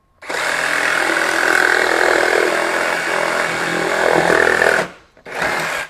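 A RIDGID R86344 18V brushless jigsaw cuts plywood with orbital action, giving a loud, close, steady buzzing rasp for several seconds that stops briefly and then starts again.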